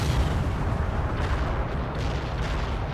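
Heavy artillery fire from the World in Conflict video game during a Soviet assault on Seattle, a dense continuous rumble of booming impacts with no distinct individual blasts, loud and sustained throughout.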